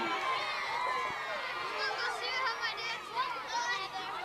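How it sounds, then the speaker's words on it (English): A crowd of fifth-grade children cheers and shouts at a school track and field meet, a lively high-pitched chorus of voices, some individual shouts rising above the din. "You can hear them cheering out there, Chris."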